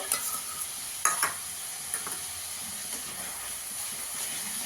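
Korma being stirred in a pan over low gas after a little sour yogurt goes in: a steady soft sizzle and hiss with a few louder scraping strokes of the spoon, close by and without talk.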